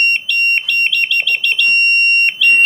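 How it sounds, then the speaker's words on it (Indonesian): An electronic buzzer wired with a diode gives loud, sharp high-pitched beeps in quick irregular bursts, then pauses briefly before sounding again, alone with no talk. "nah si buzzer ini menyala teman-teman"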